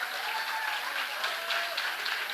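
A crowd at a school award function claps steadily, a dense patter of applause heard at moderate distance for a couple of seconds.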